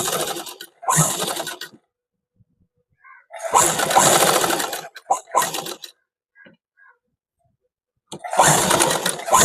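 An electric sewing machine stitches around the buckram of a school shirt collar, running in several short buzzing bursts separated by silent pauses, loud and close.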